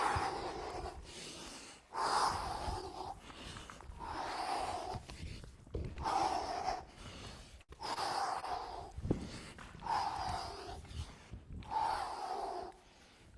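Deep, audible breaths taken in rhythm with slow body movement, each long inhale or exhale lasting about a second with short pauses between, close and fairly soft with no talking.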